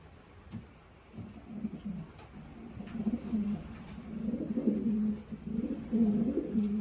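Racing pigeons coo inside a loft, soft low throaty calls that begin sparsely and build into repeated overlapping coos, close and moderately loud, with no talking.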